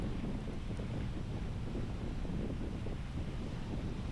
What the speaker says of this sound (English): And you can also hear the wind.